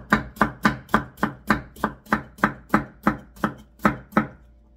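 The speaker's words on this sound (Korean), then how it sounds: "무가 얇아야 금방 익으니까 얇게 썰어줍니다" Radish being sliced thin with a knife on a cutting board, about twelve crisp, evenly spaced chops close up, each a sharp knock with a brief tail, and no talking.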